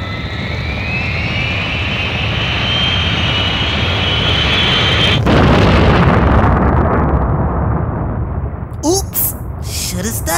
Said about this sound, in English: Please start the main engines.